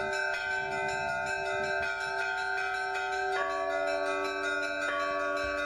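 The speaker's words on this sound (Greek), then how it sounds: "από τους 12 Αποστόλους αρχίζουν να χτυπάνε οι καμπάνες" Church bells peal steadily throughout, a dense wash of overlapping bronze tones with strikes shifting pitch partway through, loud and continuous with no voices.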